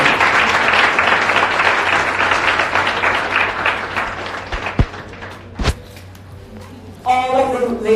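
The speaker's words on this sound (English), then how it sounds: "can you please help me put a round of applause for these beautiful" Applause from an audience at a women's empowerment launch event, a dense steady clapping that fades over several seconds, broken by a couple of thumps before a voice starts speaking near the end.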